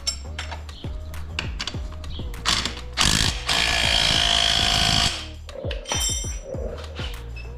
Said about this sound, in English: So now I'm just gonna go ahead and tighten it up a little bit more.